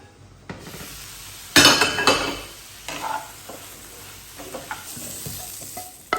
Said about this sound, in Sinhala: මේ චිකන් ටික පෑන් ෆ්‍රයි කරගන්න හිතුවේ